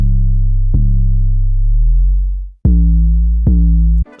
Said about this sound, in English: The whole point of it is just to make the bass a lot louder